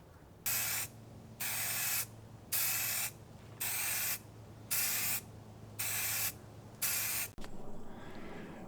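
An aerosol can sprays vintage amber lacquer onto the face of a Les Paul kit guitar headstock in eight even bursts of about half a second each, with short pauses between them, close and hissing.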